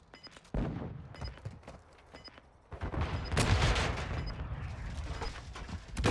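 Call of Duty gunfire cracks out in quick repeated bursts, with a quieter opening of scattered shots before dense, loud volleys pile up and keep going to the end.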